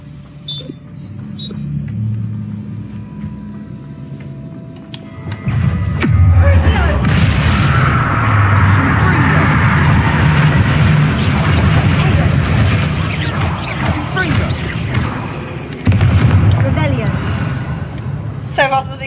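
Bombarda, Incendio and other spells from the Hogwarts Legacy video game go off as loud booming blasts and a long rumbling crash, with spoken spell names and talk around the explosions.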